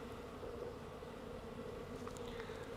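A steady, dense buzzing of many honey bees at a nuc hive, fairly close and continuous, with a low droning hum throughout.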